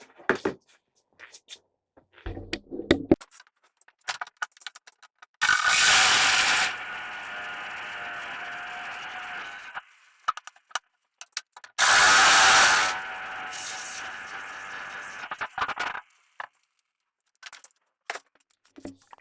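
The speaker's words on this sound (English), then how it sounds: "cut through the screws with a cut-off saw like that" A cut-off saw slices through screws while a workbench is made mobile, two loud sustained whining cuts of a few seconds each, separated by clattering handling noises and clicks nearby.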